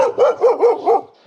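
A female dog gives four quick, close barks in an even rhythm, each a short yelping bow-wow, with no talking.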